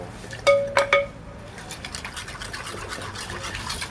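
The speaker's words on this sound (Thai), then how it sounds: "คนส่วนผสมให้เข้ากันก่อนนะครับ" A som tam mixture with chilli, palm sugar, fish sauce and lime juice is stirred in a mortar: three sharp utensil clinks come first, then a softer run of scraping and mixing.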